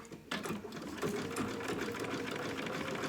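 A sewing machine stitches Velcro onto a small dog outfit at a regular 2.5 stitch length, running continuously with a quick mechanical patter, fairly quiet and close.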